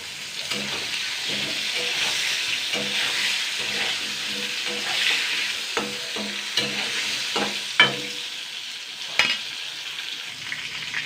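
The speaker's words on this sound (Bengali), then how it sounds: "আগে বেগুনগুলো সব ভেজে নেব" Eggplant pieces fry in oil for a chorchori, giving a continuous close sizzle broken by repeated stirring clinks and a few sharper knocks of a utensil on the pan.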